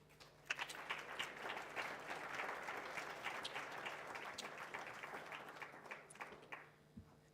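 An audience at a mathematics awards function applauds an eighth-place high school winner with a sustained, moderately distant wash of many hands clapping that tapers off near the end.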